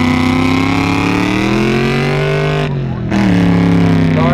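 A race car on the Bonneville salt flats roars past during a speed run, engine pitch climbing as it accelerates, loud and close, with a brief dip before the sustained roar returns.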